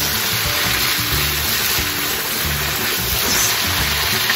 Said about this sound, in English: So I put in like a tablespoon or 2 of butter